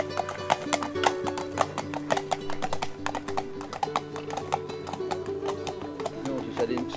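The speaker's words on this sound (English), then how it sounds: "And these two young ladies and the horses coming past." Two horses walk past on a countryside ramble near Ulverston, their hooves clip-clopping in a steady, fairly close rhythm over several seconds, with faint background sounds around them.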